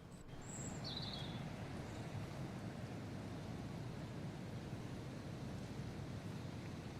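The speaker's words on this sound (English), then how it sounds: "I like the white noise in that." Ambient wind-style white noise background track: a steady, soft broadband hiss that stays even throughout, with a faint bird-like chirp near the start and no voices.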